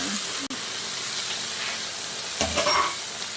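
Bicol Express being stirred while it cooks in a pan, giving a steady close sizzle and hiss with a brief scrape of the utensil near the end.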